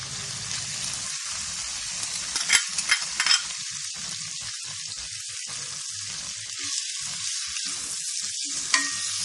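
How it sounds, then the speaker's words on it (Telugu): Paneer frying and roasting in oil in a pan over low flame, a continuous crackling sizzle with occasional louder pops and stirring scrapes, close and alone without talk. "సిమ్ పెట్టుకొని లైట్ గోల్డెన్ కలర్ వచ్చేదాకా ఫ్రై చేసుకుందాం"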